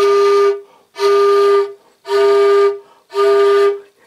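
Homemade steam whistle made from a pipe over twice as long as the short version, blown by mouth: four steady, near, loud whistle blasts of about half a second each, evenly spaced with short silences between.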